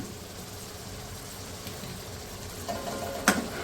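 Moong dal being stirred and fried in a chunky tomato masala, a low steady sizzle close by with a sharp scrape of a spoon against the pan near the end.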